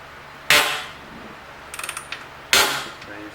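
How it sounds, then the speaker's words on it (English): Heavy steel crossmember dropped while pulling the drivetrain out of a Jeep CJ7 in a shop, two loud metallic clanks about two seconds apart with a short rattling of tools between them. "Oh, okay, so now we're dropping the crossmember."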